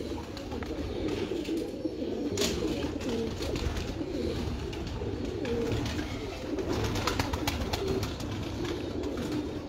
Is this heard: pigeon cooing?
yes